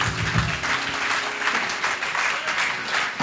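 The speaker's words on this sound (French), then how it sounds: "Est-ce qu'on peut acclamer la parole de Jésus?" A church congregation applauds during a Sunday worship service, with a steady, dense wash of clapping from many hands filling the room, loud and sustained throughout.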